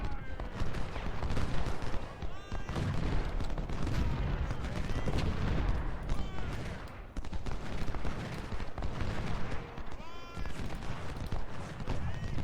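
Massed musket volleys crackle steadily throughout a Civil War battle in the Ultimate General: Civil War video game. Dense, overlapping gunfire rolls on for the whole clip without pause.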